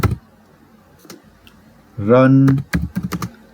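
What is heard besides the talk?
typing a command on a computer keyboard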